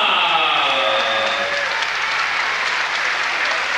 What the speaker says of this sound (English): Generous applause from the Quinn camp